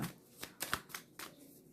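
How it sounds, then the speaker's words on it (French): Tarot cards are laid down on a table during a weekly fortune reading, giving a few soft, quick slaps and brushing swishes close by, with no talking. "Donc je vais recouvrir juste le 9 de pique."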